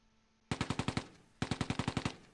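Two rapid bursts of machine gun fire from the World War II strategy game Close Combat II, each about half a second to a second of sharp, evenly spaced shots, loud and close, with a brief pause between the bursts.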